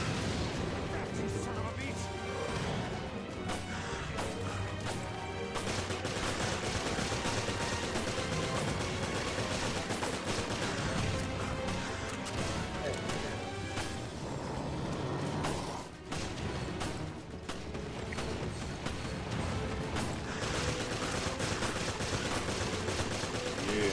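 Video game machine gun fire rattling in dense continuous bursts, loud and sustained over a busy mix of explosions and game noise, with a voice talking throughout.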